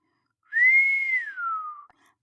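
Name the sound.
reader imitating a long whistle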